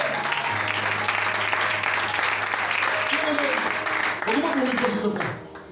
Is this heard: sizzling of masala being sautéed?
no